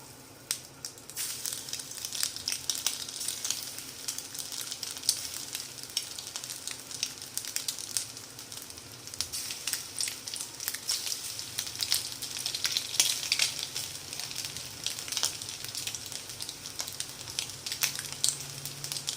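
Egg fritters (pakoras) frying in hot oil in a pan: a dense, continuous crackling sizzle that stays close and fairly steady for the whole stretch, with no voices.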